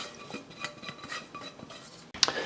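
A utensil stirs garlic-butter naan dough in a bowl, giving repeated soft scrapes and light clinks against the sides, ending in a sharper metallic knock.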